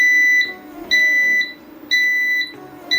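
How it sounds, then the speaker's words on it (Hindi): A solar inverter sounds a loud, steady alarm for error 56, with repeated high electronic beeps about once per second and brief gaps between them. "थोड़ी देर बाद ये अलार्म शो करेगा 56।"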